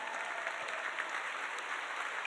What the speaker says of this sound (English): let's give all of our donors who have donated tonight so far a big round of applause.